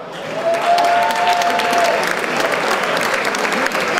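An audience at Liberty Fest NYC 2011 applauds speaker Andrew Schiff with sustained, dense clapping from a sizable crowd, steady and loud throughout, with a faint whistle near the start.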